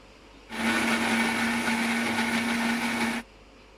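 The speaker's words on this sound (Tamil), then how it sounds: "இந்த தக்காளி சட்னியை நான் வந்து அரைச்சிட்டு போகிறேன்." A mixer grinder blending tomato chutney runs in one steady, loud burst of about three seconds, a constant motor whir that starts and stops abruptly.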